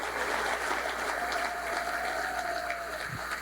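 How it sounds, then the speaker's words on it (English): A brief round of applause from guests at a dinner, a dense, fairly soft wash of many hands clapping together, steady and close with no speech on top. "Please round of applause for Coach Malzahn"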